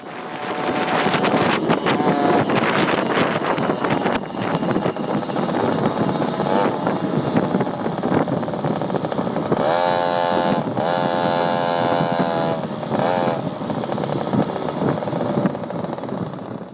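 A Yamaha QT50 moped's two-stroke engine with a Malossi kit drones and revs hard in bursts uphill, buzzing and rising in pitch, with wind buffeting the microphone throughout.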